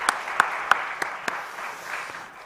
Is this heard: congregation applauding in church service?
yes